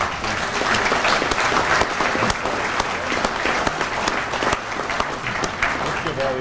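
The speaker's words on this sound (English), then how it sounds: "Let's give all these bright young recipients another round of applause" A round of audience applause for young award recipients at an American Legion event, dense and steady clapping throughout with no pause.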